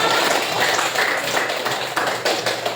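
A classroom of students claps together for their classmates, producing a dense, steady patter of overlapping hand claps that stays loud and even throughout, close to the listener.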